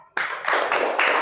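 Classroom clapping for a student, a short burst of hand claps from a group in a few quick pulses, starting abruptly after a moment of silence.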